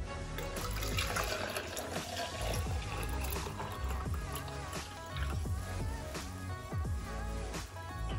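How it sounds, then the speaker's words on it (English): Liquid pours out of a Cafe du Chateau cold brew coffee maker in a continuous gurgling, splashing stream with small bubbling irregularities. It is close up and moderately quiet. "So if you guys do pour out the tea,"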